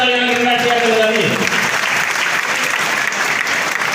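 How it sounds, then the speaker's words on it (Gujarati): A crowd applauds a police inspector being honoured at a Kheda district police felicitation ceremony. A speaker's amplified voice gives way after about a second to sustained, loud, dense clapping. "ફરીવાર જોરદાર તાળીઓના ગણગણાટથી આપણે વધાવીએ"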